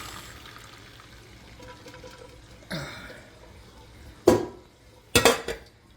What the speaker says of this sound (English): My spaghetti is cooked, so I'm gonna strain it off.